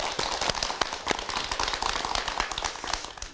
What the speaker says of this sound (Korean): 박수로 초대해주세요